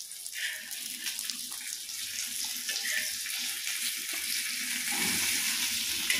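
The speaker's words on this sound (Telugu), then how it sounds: "మనం మీడియం ఫ్లేమ్లోనే పెట్టుకుని వీటిని ఫ్రై చేసుకుందాము" Fish frying in a pan over a medium flame gives a steady, close, bright sizzle that holds evenly throughout with no talking.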